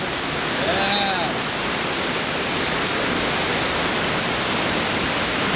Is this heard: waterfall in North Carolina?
yes